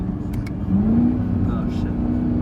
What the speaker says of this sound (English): You can hear the downshifting.